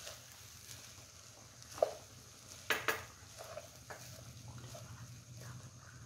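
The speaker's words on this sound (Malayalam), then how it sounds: "ഹൈ ഫ്ലെയിമിലേക്ക് ഇളക്കാം." Fried rice is stirred in a pan over a high flame, heard as a quiet, low sizzle broken by a few scraping and clinking strokes of the spatula against the pan.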